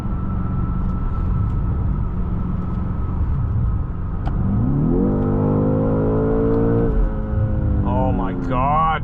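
A 2024 BMW X5 M Competition accelerates hard from inside the cabin, its engine note climbing steadily through rising, shifting tones over a constant road rumble, loud and close, with a brief voice near the end.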